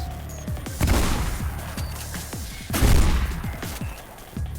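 Two heavy shotgun blasts in the video game Mirror's Edge, about two seconds apart, each a loud booming crack with a ringing decay, close and clear with no talk.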